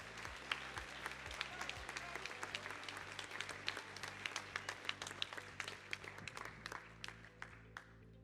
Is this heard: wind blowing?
no